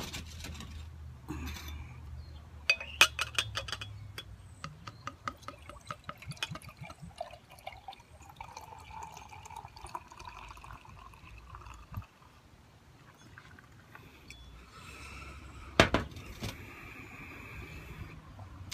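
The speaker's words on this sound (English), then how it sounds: "I didn't pour too aggressively because I had to pour it out of a growler." Beer poured from a growler into a glass, with intermittent trickling, dripping and gurgling liquid sounds close by for many seconds, broken by a few sharp clinks and knocks.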